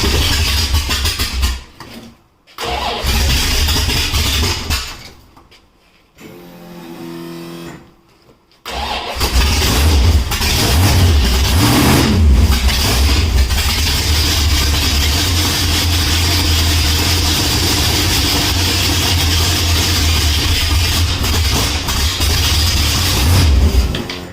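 A hot rod's carbureted engine cranks with stuttering catches and brief stalls before firing up, then runs steadily at a loud, rough idle for most of the stretch, close by with no talking.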